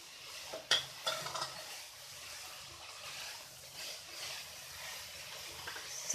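A spoon stirs a vegetable mixture for macaroni rolls in a pan, with soft scraping and light sizzling, a few sharper clinks of utensil against the pan early on, quiet and close with no talking.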